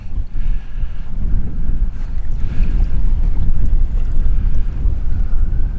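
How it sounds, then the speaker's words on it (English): Steady wind buffets the microphone aboard a sailing catamaran cruising off Manjack in the Abacos, Bahamas, with a light easterly breeze and water washing against the hull in a continuous, fairly loud rush. "Just a little bit of wind from the east."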